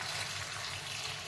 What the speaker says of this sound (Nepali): अब यसमा म पानी राख्छु।